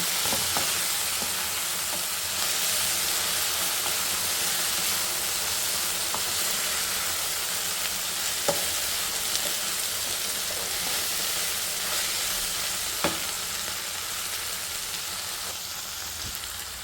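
Okra (ladies finger) fries in a pan, a constant close sizzle like steady rain, with a few sharp spatula taps and stirs breaking through now and then, no speech.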